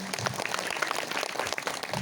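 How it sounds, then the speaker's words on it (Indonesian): Scattered applause from the congregation at a manaqib religious gathering, with soft, fairly dense clapping that sounds somewhat distant and low in level. "Tepuk tangan buat jamaah manaqib."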